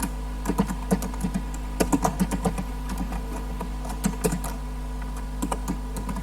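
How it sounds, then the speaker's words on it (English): Typing on a computer keyboard, with irregular bursts of close, crisp key clicks separated by short pauses, heard alone over a steady low hum. "Typing, I don't like typing."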